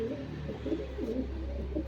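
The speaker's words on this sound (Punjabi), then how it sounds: "ਬੈਠੇ ਐ ਇਹ ਕਬੂਤਰੀ" Pigeons feeding on washed wheat grain give soft, low repeated coos in an overlapping rhythmic pattern, close and steady, with a faint background hum and no talking.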